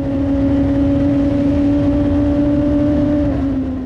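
An onboard race car at the Turckheim hill climb accelerates hard out of a corner, its engine a loud, sustained high drone holding nearly steady pitch with a gritty rumble underneath, close and uninterrupted.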